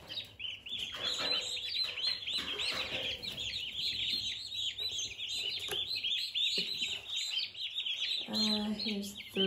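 Freshly unboxed turkey poults from Porter's Turkeys keep up a dense chorus of shrill, rapid peeping up close while a person talks over them.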